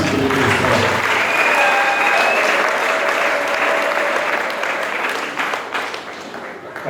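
A church congregation applauds in praise of Christ, a loud, dense wash of clapping that holds steady, then thins and fades toward the end.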